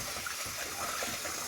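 Very warm tap water runs steadily in a continuous gush, close and fairly loud, while rusty antique bottles are being cleaned.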